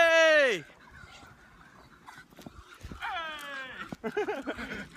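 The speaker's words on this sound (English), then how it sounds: "Look at this dog, dude." A dog gives a loud, drawn-out whining yelp up close, followed by quieter whimpering cries. A person talks casually in between the sounds.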